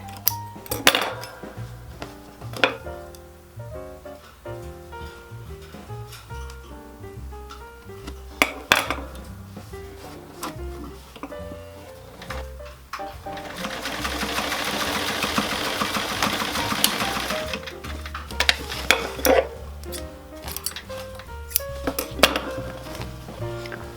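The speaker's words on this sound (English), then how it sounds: "We have a nicely stitched in the ditch seam that lines up nicely on the other side too" A sewing machine stitching in the ditch along a corset seam, with bursts of rapid mechanical whirring between clicks and handling knocks, plus a longer sustained run of stitching in the middle.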